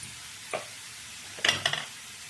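Beetroot with chili powder, tomato and salt sautéing in oil in a pan, a faint background sizzle broken by a couple of short stirring scrapes and clinks near the middle and end.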